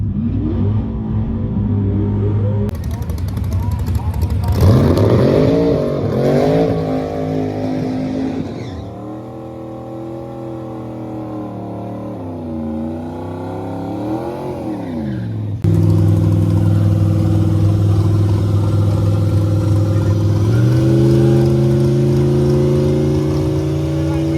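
A nitrous-fed Fox Body Mustang launches and winds hard through its gears at a drag race, loud rising engine howl with gear shifts, a brief drop, then a sustained roaring pull near the end, no talk.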